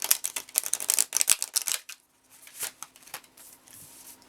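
Stiff tarot cards are shuffled in a dense run of crisp riffling flicks for about two seconds, then a brief pause followed by softer, scattered card slaps and shuffles at close range.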